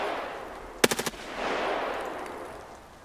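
A short burst of four rapid gunshots in the video game Escape from Tarkov rings out, sharp and close, followed by a low wash of background noise.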